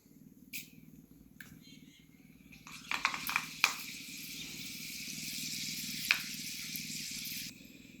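Fenugreek seeds hit hot oil with a sharp crackle, then settle into a steady sizzle that carries on for several seconds alongside a low background hum and a few small pops.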